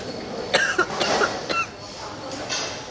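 A person coughs a few times in quick short bursts close by, with some quiet talking around the coughs.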